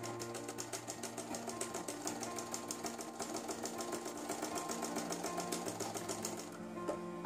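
A sewing machine runs steadily as it stitches a hem folded 1.5 inches on the lining of an umbrella skirt, a continuous close mechanical whir with fast regular needle ticks throughout.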